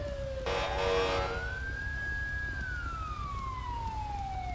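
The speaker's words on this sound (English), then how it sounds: "Turn off my siren here" A police siren in GTA V wails and sweeps up and down alone. A short burst of static sits near the start.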